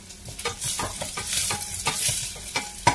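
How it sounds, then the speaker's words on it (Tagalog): Onion sautés in vegetable oil in a saucepan, a close sizzle broken by brisk repeated scraping stirs about every quarter second, with no talking. "In a saucepan, nilagyan ko na siya ng mantika or vegetable oil. At nilagyan ko na rin yung sibuyas."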